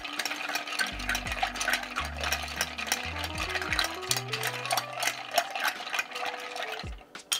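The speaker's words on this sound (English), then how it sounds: "I will say stir for probably 10-20 seconds." A banana rum old fashioned is stirred over ice in a mixing glass for several seconds, giving a steady clinking and swirling with ringing tones throughout, fairly close, with no talking.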